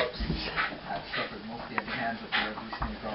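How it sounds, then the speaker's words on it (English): A dog whimpers and yips in short excited bursts at close range, with a person talking over and between the cries. "That's one crazy dog."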